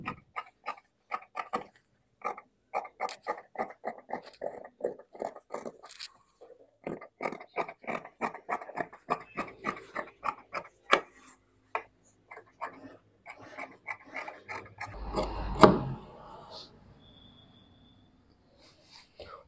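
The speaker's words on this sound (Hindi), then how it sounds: "अब बैक पीस की कटिंग कर लेंगे।" Scissors cut the back piece of a 32-chest normal-fitting shirt from fabric, making a long run of quick, even ticking snips that ends in a louder scraping rustle, then quiet. No one speaks.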